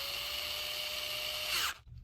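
Power drill whirring steadily as its chuck is tightened during a restoration of a VACO P-3 pipe, close and constant before spinning down abruptly to a stop.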